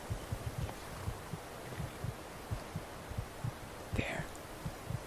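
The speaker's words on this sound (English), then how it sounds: "I can hear the guard's heartbeat" A guard's heartbeat in the Skyrim video game throbs in a steady, low, muffled double-thump rhythm that repeats evenly throughout, with a brief breathy swell near the end.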